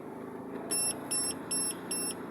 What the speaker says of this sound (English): don't be deceived by the point that RPM alarm has just gone off